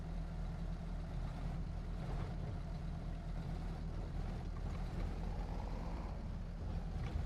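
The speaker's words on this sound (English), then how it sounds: "The sound on this engine is absolutely incredible here." A low, steady tractor engine rumble from a John Deere 7820 in Farming Simulator idles continuously at moderate distance, with a faint rattling texture and no voices.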